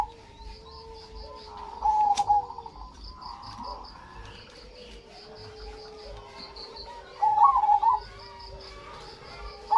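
Zebra doves (perkutut) cooing in a repeated rhythmic phrase, a clear call near 2 seconds and again around 7.5–8 seconds, over soft steady insect chirring and faint outdoor ambience on a morning.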